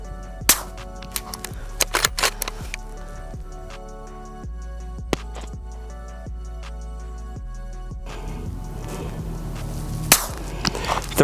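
Suppressed B&T APR 8.6 Blackout sniper rifle fired outdoors at a 100-yard target: several sharp, muted cracks spaced a second or more apart, fairly faint against a steady background.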